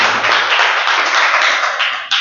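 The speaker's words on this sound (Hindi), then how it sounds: "जोरदार ताली रामदयाल के लिए" A crowd of students gives a round of applause to a classmate named Ramdayal, a dense, steady clatter of clapping hands close by that thins slightly toward the end.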